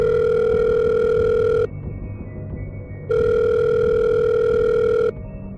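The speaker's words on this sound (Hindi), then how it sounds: "तभी उसकी माँ का फोन आया।" A telephone rings twice in long electronic trills, each lasting about two seconds and separated by a short gap, loud and clear over a faint background hum.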